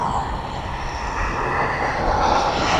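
A jet aircraft taxiing at East Midlands Airport gives a steady, continuous engine rumble and whine that swells slightly toward the end, heard from a distance with no talk over it.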